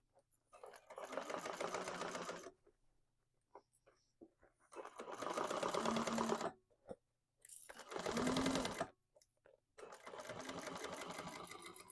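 A sewing machine stitches a tote bag in three or four rapid, steady bursts of mechanical whirring, each lasting a couple of seconds, separated by short pauses filled with faint handling noises.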